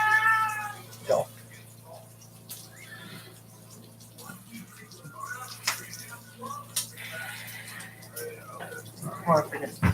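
A cat meows several times indoors, short tonal cries near the start and end over a steady low hum, with faint talk in between.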